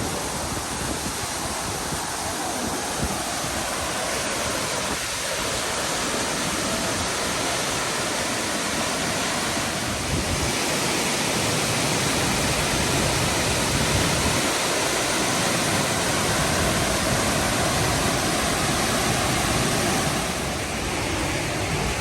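Powerful waterfall in Gorges State Park, North Carolina, roaring as a dense, continuous broadband rush of heavy water, loud and close throughout with no talk over it.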